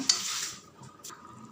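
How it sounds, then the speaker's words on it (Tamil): Sambar being stirred in a pot after half a spoon of turmeric and a spoon of oil are added, a brief scraping swirl near the start followed by softer stirring and a faint light clink, close and fairly quiet. "நல்லா கலந்து விடுங்க."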